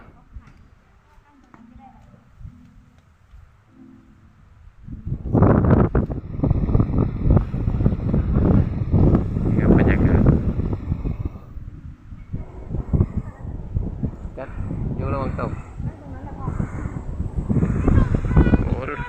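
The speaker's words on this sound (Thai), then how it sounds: "ลมแรง" Strong wind on Khao Yai Thiang mountain roars and buffets the microphone in loud, gusty surges after a calm start, with voices speaking intermittently underneath.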